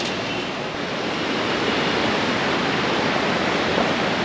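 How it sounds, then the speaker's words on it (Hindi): Fast-flowing Alaknanda river swollen by monsoon current, a loud, continuous broadband roar of rushing water, close and steady with no voices. "ये है अलकनंदा रिवर और अभी आप देख रहे होंगे कि इसमें कितना तेज करंट है"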